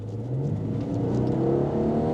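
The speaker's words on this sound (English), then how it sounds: "you can simply pop it in sport mode and the whole car wakes up. The exhaust snarl." A Maserati saloon in sport mode accelerating, its engine and exhaust giving a close, building snarl with a rising pitch over about two seconds, no talk.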